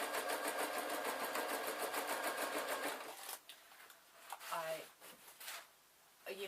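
A sewing machine runs a steady, rapid line of stitches along the hem of a denim-style canvas skirt for about three seconds, then stops, leaving quieter handling sounds and brief voice fragments.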